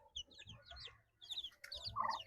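A Livorno (Leghorn) chicken clucks in short bursts, close by, with softer clucks and bird calls between them and no one speaking.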